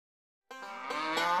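A single cow on a cattle farm lets out a clear, drawn-out moo starting after a brief silence, rising slightly in strength as it carries on, heard close and alone.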